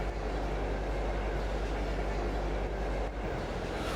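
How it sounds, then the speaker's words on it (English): A long train ride in the video game Trails of Cold Steel, a dense, steady rumble of rolling rail wagons that holds at even loudness throughout, with a slight dip near the end and no voices. "nice long train ride back to"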